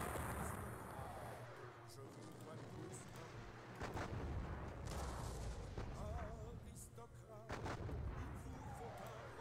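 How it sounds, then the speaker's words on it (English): Volleys from 3-pounder cannon in a John Tiller Napoleonic wargame, firing on cavalry at the Battle of Dennewitz, sounding as several booming artillery reports and rumbling over a busy battlefield bed while someone talks. "Five guns. Might as well fire on some more cavalry."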